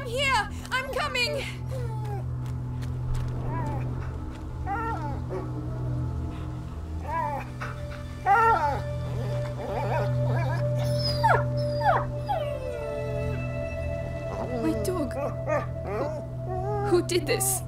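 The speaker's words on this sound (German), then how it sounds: "Hundewinseln!" A dog whimpers and whines in the video game A Plague Tale: Innocence, with high plaintive cries breaking over steady low game ambience and music while someone talks throughout.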